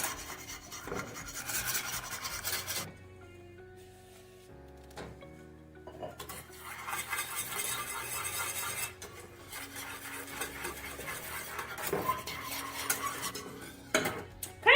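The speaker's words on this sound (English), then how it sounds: "Add your beautiful eggs, egg yolk with sugar, and whisk so fast" Eggs, egg yolk and sugar are whisked fast in a bowl, giving rapid rasping, scraping strokes in bursts with a couple of short pauses, close and moderately loud with no talk.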